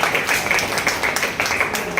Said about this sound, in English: I would like you to give a big round of applause and welcome him to the class.